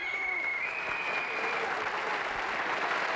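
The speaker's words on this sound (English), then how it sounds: "Could I have a round of applause for mighty singer, musical arranger, writer, and just a good fella, Mr." A 1970s television studio audience applauds a singer, a thick, continuous wash of clapping heard throughout the short stretch, with a faint tone running underneath.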